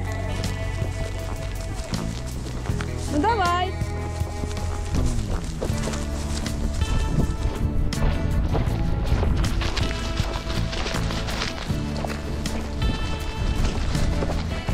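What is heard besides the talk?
heavy rain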